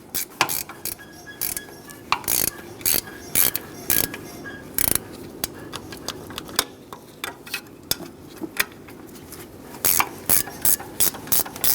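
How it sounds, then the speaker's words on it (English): A 14mm wrench works the back nut on an AC compressor mounting bolt of a 1988-1999 GMC K1500 with a 5.7L V8, giving sharp metallic ratcheting clicks and knocks in irregular bursts, close and clear. "Using a 14mm wrench on the back nut,"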